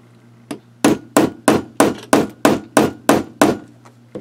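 Hammer blows drive a steel piece through thick layers of denim fabric, nine sharp, evenly spaced strikes in quick succession after a lighter first tap, loud and close with no talk.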